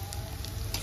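Chowmein sizzling as it is stir-fried at a busy roadside stall, a steady close frying hiss with faint clinks under a low background hum.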